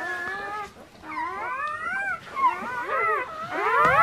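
Newborn German Shepherd puppies whimper and squeal close by, a string of rising and falling high-pitched cries overlapping in a noisy litter.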